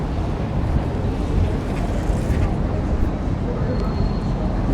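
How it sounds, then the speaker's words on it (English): Strong gusts buffet the microphone on Duncan Street in Toronto, a continuous loud, rumbling roar of wind noise filling the whole stretch. "Oh my, it's windy."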